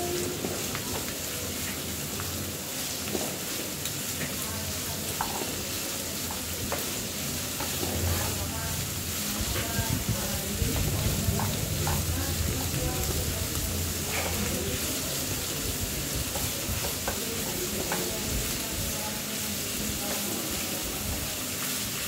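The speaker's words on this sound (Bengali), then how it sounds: "পেঁয়াজ এগুলো একটু ভালো করে ফ্রাই করতে হবে, লাল লাল করে ফ্রাই করতে হবে।" Sliced onions fry in a pan for chicken kashmiri, crackling in a steady dense sizzle with stirring scrapes throughout, close and fairly loud.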